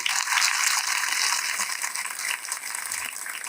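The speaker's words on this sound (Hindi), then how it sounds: "इनके लिए ढेर सारी तालियां बजाइए सर के लिए" An audience in a prison courtyard claps for the jailer in dense, continuous applause, fairly loud and steady with no voices over it.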